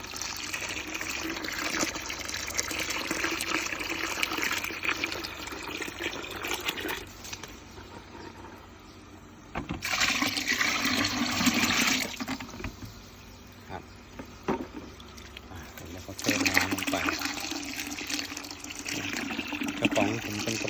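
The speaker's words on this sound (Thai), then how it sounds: "เพิ่มน้ำลงไปนะครับ" Water pours steadily into a fermenting microbe mix of termite-nest culture with rice bran and rice noodles, a continuous close splashing gush with a few brief pauses.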